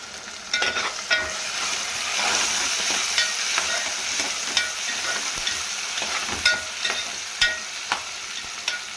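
A paste of ginger-garlic, tomato, green chili and onion fries in a pan, hissing steadily as a spoon scrapes and taps the metal every second or so, close and fairly loud with no talking.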